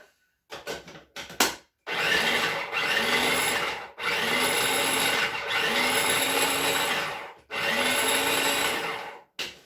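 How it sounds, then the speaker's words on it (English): A food processor chops the remaining bread into fine breadcrumbs for meatballs, giving a loud, steady whirring grind in several long pulses separated by short stops. "The remainder of the bread. Just to chop that."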